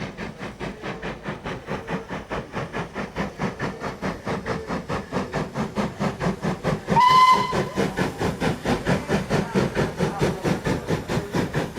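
A USA class dock shunter steam locomotive on the Kent and East Sussex Railway chuffs in a steady, even exhaust rhythm close by, and about two thirds of the way through it gives one short, shrill whistle blast.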